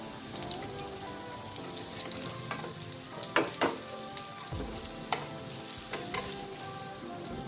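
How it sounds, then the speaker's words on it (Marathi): Cabbage vadi slices sizzle and crackle as they fry in hot oil until crisp, a steady bubbling hiss with scattered sharp pops and stirring clinks, close by. "आता आपण त्या तळून घेऊया. हे बघा, अशा सर्व वड्या दोन्ही साईडला व्यवस्थित भाजून घ्यायच्या."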